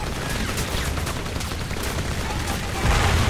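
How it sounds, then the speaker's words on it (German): Gunfire and an explosion in the first-person shooter Crysis Warhead, loud dense rapid shots that roll into a heavier boom near the end. "Was habe ich da abgeschossen? Cool. Irgendwas ist explodiert."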